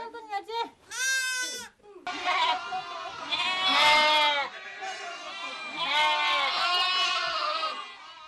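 Sheep and goats bleat on a frozen Siberian farm, a series of loud, close, quavering calls that follow one another and overlap, with no clear speech over them.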